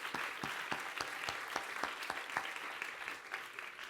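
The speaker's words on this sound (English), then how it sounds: "let's give a round of applause to Luís again" Audience applause at a conference session, a steady crowd clapping with sharp individual claps standing out, moderately loud and continuous without speech.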